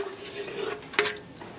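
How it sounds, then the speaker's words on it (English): White onion sautes in extra virgin olive oil in a pan over high heat, a soft, quiet sizzle broken by one brief stirring scrape. "we're going to saute our white onion"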